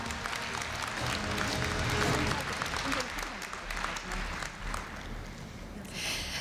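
An audience applauds at a university entrance ceremony, sustained crowd clapping in a large hall that swells and then gradually fades, with a voice briefly heard over it.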